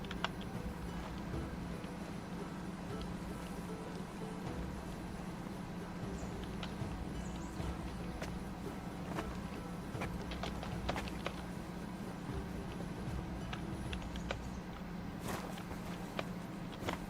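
Horse hooves clip-clopping on the ground in the medieval Bohemian game Kingdom Come Deliverance 2, a steady walking rhythm of soft knocks running throughout over a constant low rumble of ambience.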